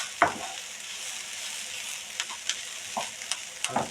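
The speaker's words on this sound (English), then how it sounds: "you want to saute off this veg first" Onions and carrots sauté in a pan with a steady close sizzle, broken by a few light scrapes and taps from a stirring utensil.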